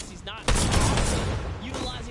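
Fortnite Season 9 gunfire erupts in a loud, dense burst of rapid shots that holds steady for over a second, then trails off, with voices around it.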